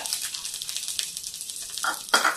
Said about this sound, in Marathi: चला, आता आपलं तेल तापलेलं आहे। आपण आता मिरच्या टाकून घेऊया त्याच्यामध्ये।